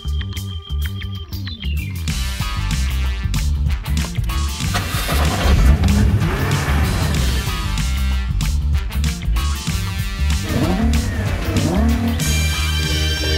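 A Nissan GT-R sports car drives hard, its engine roaring loudly and continuously with shifting, rising pitch and occasional tire noise, filling the whole stretch without speech.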